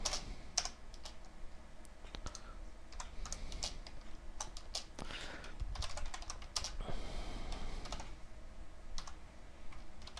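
Rapid clicking on a computer keyboard as code is typed in C++ with Qt, uneven bursts of keystrokes with short pauses, close and fairly quiet, no voice.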